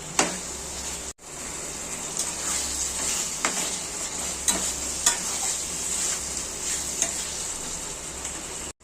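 Spice paste sautéing in oil for a potato and pointed gourd curry, a steady close sizzle with occasional scraping stirs and light clinks of the spatula against the pan, the stirring pausing briefly near the start.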